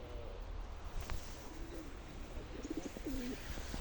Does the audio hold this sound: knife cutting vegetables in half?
no